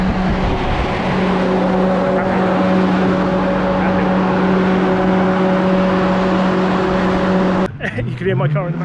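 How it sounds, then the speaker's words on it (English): A Nissan S13 with an RB25 engine runs hard on a dyno, a loud sustained engine drone with steady harmonic tones under occasional talk, then cuts off abruptly near the end. "You can hear my car in the background."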